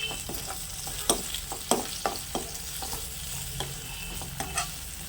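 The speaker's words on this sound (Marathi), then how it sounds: "टॉमॅटो मऊ होईपर्यंत मी परतवून घेणार आहे" Onion and tomato are sautéed in a pan, with a steady close sizzle and repeated scraping strokes from stirring at an irregular rhythm. No one talks.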